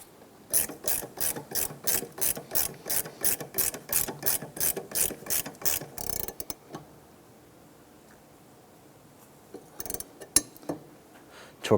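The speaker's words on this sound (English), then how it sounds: "Torque this upper mount bolt to 35 foot-pounds." Ratchet on an upper engine mount bolt of a 2005-2007 Ford Five Hundred, clicking in a fast regular series of about fifteen strokes, close and clear, then silence broken by a few scattered tool clinks.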